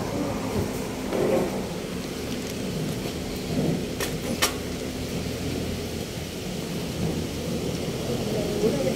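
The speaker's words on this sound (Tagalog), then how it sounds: "Laki ng ulan eh." Heavy rain pours down steadily during a bike tour through Makati and Pasay, a dense hiss with low rumbles of thunder rolling underneath and a couple of sharp crackles partway through.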